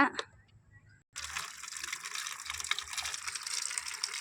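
Water poured from a jug for homemade liquid compost splashes and gushes steadily after a short quiet start, a soft, continuous pour heard close by with no talking.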